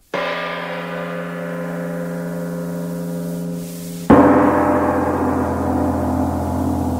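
A clock tower bell sounds the hour, a single loud struck tone that rings out and decays slowly. A second strike hits at about four seconds, and its resonance carries on to the end with no voices.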